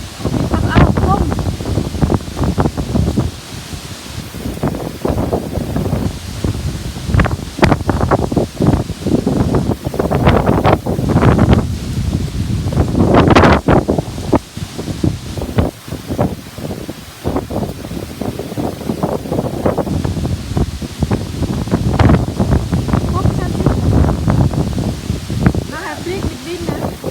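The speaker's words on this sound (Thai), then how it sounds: "ลมพายุมาอีกแล้วค่ะ" Storm wind gusts through trees on Koh Chang island, a loud continuous roaring rustle with fluttering bursts, while someone talks over it.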